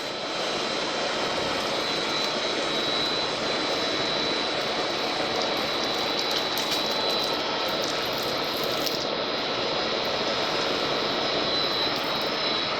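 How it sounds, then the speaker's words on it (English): A pool filter pump motor runs at full speed with a loud, steady, close-up roaring drone and a faint high whine, unchanging throughout and with no talking. "Got the motor back up full speed."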